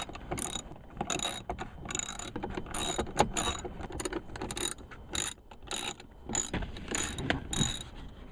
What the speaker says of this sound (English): to remove the sun visor, we're just going to use a T20 Torx bit and just take it to remove the bolts here